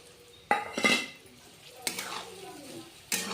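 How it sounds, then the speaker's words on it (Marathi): Cabbage being sautéed in a pan, with a few sharp clanks and scrapes of a spoon against the metal pan under a faint background sizzle, close by. "परतून घेऊया"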